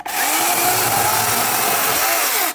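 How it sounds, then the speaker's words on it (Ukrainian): A battery-powered chainsaw cuts wood with a loud, steady whine held for a couple of seconds, starting and stopping abruptly, close up with no talk. "отримали пилку, зарядили і пішли пиляти"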